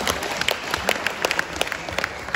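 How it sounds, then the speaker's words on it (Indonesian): An audience in an indoor seminar room claps in loud, sustained applause. The clapping forms a dense patter close by throughout the short stretch. "Aplaus yang meriah untuk kita semua."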